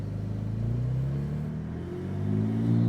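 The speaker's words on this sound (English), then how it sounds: "I'll hit a little rev for y'all." A turbocharged supercar engine revs up against a 3,000 RPM limiter, producing a loud, close, droning rumble whose pitch climbs and swells toward the end with no talking.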